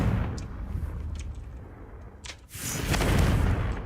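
Confringo explosion spell blasts in Hogwarts Legacy during a wand duel, with a sharp boom near the end after a quieter stretch of rumbling game effects and thuds.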